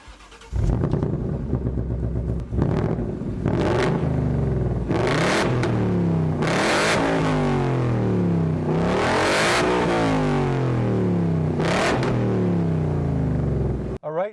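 A Ford Mustang Mach 1 V8 accelerates on the road, loud and close, in repeated surging pulls with rising engine notes, each cut by a brief break at a gear change.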